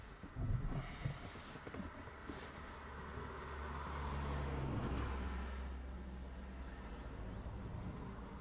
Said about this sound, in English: There's a few vehicles, so I'm just waiting for those to pass.